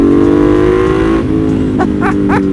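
A Ducati Monster 1200 motorcycle's engine idles loudly up close, then blips through several sharp rising revs in quick succession, echoing off a nearby wall.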